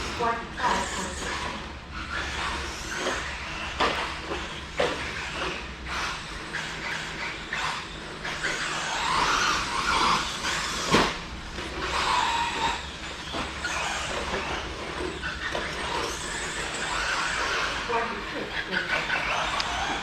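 A Team Associated RC truck runs laps around a track, its motor whining steadily and loudly throughout while tires skid and scrabble through the corners. Voices are present in the background.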